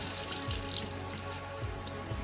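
Water runs steadily from a household tap, a continuous close hiss and splash with a few faint knocks, no voices over it.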